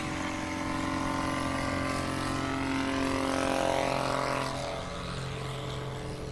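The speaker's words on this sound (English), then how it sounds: "Here's John Young in the Aviat Aircraft Husky" An Aviat Husky bush plane takes off at a short-takeoff competition at Sun 'n Fun's Paradise City, its propeller engine droning steadily and swelling slightly in the middle before easing off, heard from a distance.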